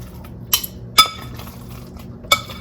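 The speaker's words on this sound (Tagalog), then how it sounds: "So just keep mixing all the ingredients with those 2 eggs combined." Meatball mixture with eggs is stirred in a bowl, with three sharp glassy clinks against the rim over a soft background and no talking.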